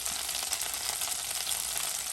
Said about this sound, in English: So here's my bits of snake meat, rattlesnake, frying up in the pot.